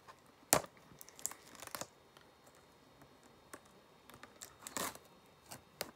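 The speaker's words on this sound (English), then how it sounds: "we'll grab my little scissors here so I can get this open" Small scissors cutting open the plastic wrap on a Blu-ray case, with sparse close snips and crinkling plastic between quiet pauses.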